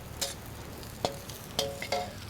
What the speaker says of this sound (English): Straight in, and a quick stir.